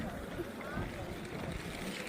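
Steady cold wind buffeting the microphone outdoors on a city square, a continuous low rumble with no breaks, fairly loud throughout.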